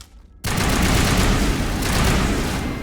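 Heavy gunfire erupts in a firefight in the video game Mass Effect, an abrupt onset of dense, continuous rapid shots that stays loud and close throughout.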